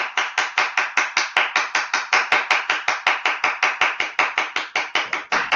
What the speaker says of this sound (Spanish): Adelante, por favor, un aplauso muy grande